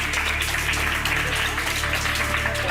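A studio audience applauds on a French reality show, giving a steady, dense round of clapping over a continuous low background hum.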